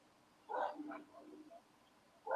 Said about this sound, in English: I don't know what he's barking at out there